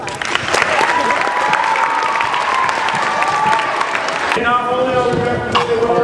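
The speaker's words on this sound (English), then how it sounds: "So give them a round of applause." A crowd claps in sustained applause at a school pep assembly awards ceremony, with some cheering and voices mixed in, filling the room throughout.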